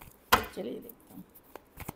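Tarot cards riffled during a reading: one sharp, loud riffle burst, then a softer rustle of cards settling, followed by a few light taps, close and fairly quiet with no voice.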